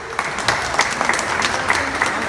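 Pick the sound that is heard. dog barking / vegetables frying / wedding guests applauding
wedding guests applauding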